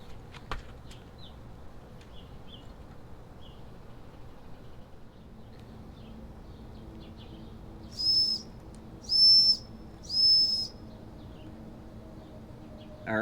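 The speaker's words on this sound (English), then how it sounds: "our whistle's starting to work pretty good" Three short, high whistle toots from a Wilesco D-405 model steam engine around the eight-second mark, each lasting under a second, over a steady low mechanical rumble.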